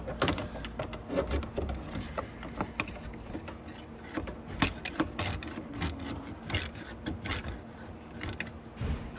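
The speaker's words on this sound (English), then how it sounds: "finish tightening up these bolts" Bolts are tightened on a Venom X22 125cc motorcycle during a starter change, an irregular run of close ratcheting clicks and scraping rasps with short pauses between bursts.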